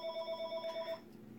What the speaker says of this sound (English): Phone want to be ringing.